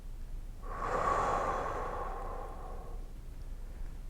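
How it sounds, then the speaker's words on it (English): A person slowly draws in one long, deep breath during a relaxation exercise. The inhale is close and soft, swelling and then trailing off over about two seconds before quiet returns. "take a breath in"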